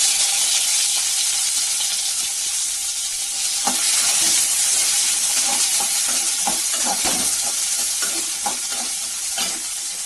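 Large sliced onions frying and being stirred in a hot pan for mutton chukka, a steady close sizzle with repeated scraping and stirring clatters through most of the stretch.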